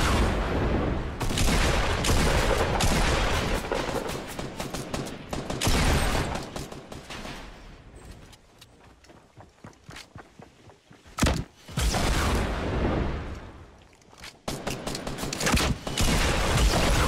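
Dense, almost continuous gunfire and explosive booms in a Fortnite-style shooter video game, loud and close, with a brief lull before heavy shooting resumes.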